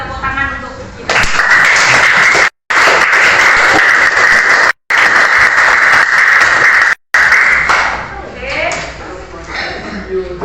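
A class of about twenty students claps after finishing an evaluation test, loud bursts of clapping in separate chunks broken by short gaps, with a few voices and some tapping toward the end.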